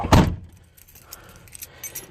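Car keys for a 1984 GMC Sierra Classic pickup jangle in one loud, close burst at the start, then only faint handling rustles follow inside the cab.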